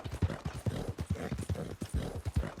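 A Missouri Fox Trotter horse in a Western video game moves at a steady gait, its hooves clip-clopping in a regular rhythm of close, distinct beats, with no talk over them.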